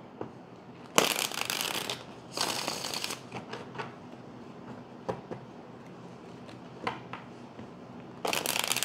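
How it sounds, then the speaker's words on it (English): A tarot deck is shuffled during a card reading: several quick, crisp riffling bursts separated by quieter stretches with light card taps and handling, close by. "Okay, let's get two more shuffles,"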